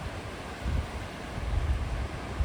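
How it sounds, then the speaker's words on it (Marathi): Gentle sea waves wash in at low tide on Awas beach near Alibag, a soft distant surge and hiss blended with light wind noise, with no voices. "ओहोटीची वेळ आहे त्यामुळे लाटा मंद आहेत"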